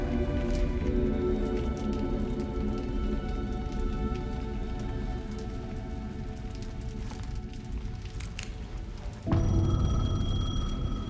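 Steady rain patters throughout in Alan Wake 2, with a payphone bell tone standing out more clearly near the end as the sound grows louder.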